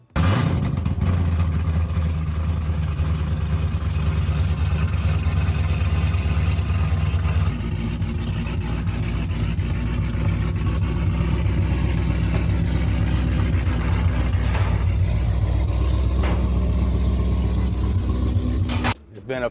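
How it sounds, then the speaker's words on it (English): A Dodge hot rod engine idles with a loud, lumpy rumble and a few revs throughout, close and constant, with people talking over it. "let's check out your hot rod"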